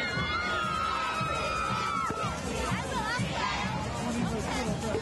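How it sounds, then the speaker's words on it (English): Young cheerleaders cheer at a Columbus Day parade amid a lively crowd, shouting and chatter mixed with whistle-like tones and voices, busy and continuous throughout. "a close-up of the kids cheering away"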